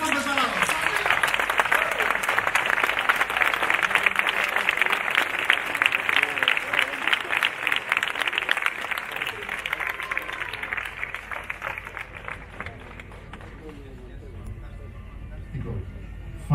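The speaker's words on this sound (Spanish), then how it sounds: "Un aplauso para todos ellos." Concert audience in Alcañices applauding loudly, a long dense burst of clapping that holds strong for about ten seconds before thinning and fading out, with a few crowd voices mixed in.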